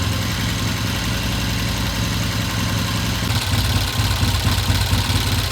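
A Norton motorcycle engine idles steadily while warming up, a continuous low mechanical rumble that picks up a slightly rougher, pulsing beat toward the end, with no talking over it.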